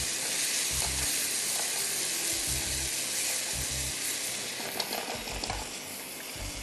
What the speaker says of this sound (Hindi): प्रॉन्स डाल के आप इसको सौटे कर दीजिएगा